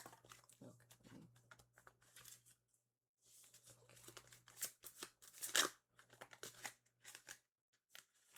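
Rose Bella oracle cards are shuffled by hand in soft, irregular bursts of riffling and rustling, fairly close and quiet, with short pauses between handfuls.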